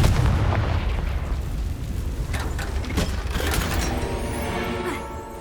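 Repeated Confringo blasting-spell explosions from the video game Hogwarts Legacy, loud booming bursts landing one after another over a dense, rumbling battle din with no talk.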